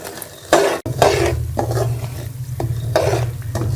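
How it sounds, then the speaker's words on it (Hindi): Semolina (suji) roasting on a low flame for egg suji halwa, stirred in a pan: repeated close scraping strokes in an uneven rhythm over a steady low cooking hum. "सूजी को स्लो आंच पे भूनते हुए मुझे 5 से 6 मिनट हो गए हैं"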